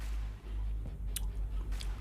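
Steamed mussels are chewed up close, giving soft wet squishy mouth sounds with a couple of faint clicks over a steady low background hum.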